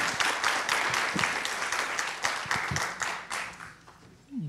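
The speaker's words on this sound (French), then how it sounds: "Je vous remercie de les applaudir." Audience applause at a presentation: a crowd claps steadily for several seconds, then the clapping thins and fades out toward the end.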